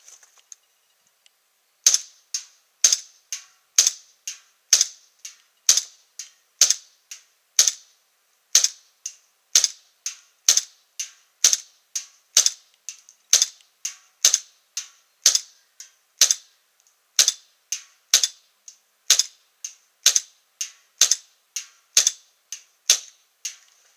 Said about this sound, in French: je vais faire 2 chargeurs sur le bidon qui est là-bas comme d'habitude, à peu près 20-25 mètres